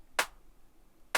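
Two dry, short hand-clap samples, played in Ableton Live and spaced about a second apart, each a sharp bright burst with no tail, alone against near silence.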